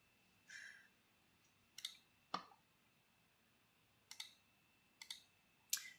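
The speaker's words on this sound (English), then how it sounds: "Maybe I should get a silent clicking mouse." A computer mouse clicks in short separate bursts, some single and some doubled, faint and close in a quiet room with no talking.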